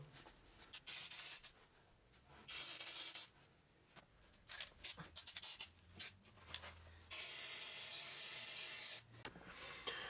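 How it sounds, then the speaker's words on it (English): Two long hissing bursts from an aerosol can of rust protector sprayed where the bushings go while changing a Nissan Sentra lower control arm, close by, with rubbing and handling noises between them. "I'm just gonna spray some rust protector on where the bushings go"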